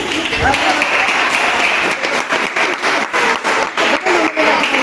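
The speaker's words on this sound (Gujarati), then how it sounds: "તાળીઓના ગરગડાટથી બતાવી દે." A school audience at a quiz competition breaks into sustained applause, many hands clapping in a dense, fairly loud burst that swells and pulses in waves for several seconds.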